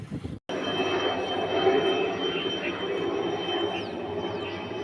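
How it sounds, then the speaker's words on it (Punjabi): A BSF helicopter's steady engine drone passes overhead, a continuous roaring hum that holds level for several seconds after a brief cut. "ਬੀਐਸਐਫ ਦਾ ਹੈਲੀਕਾਪਟਰ ਜਾ ਰਿਹਾ ਜੀ"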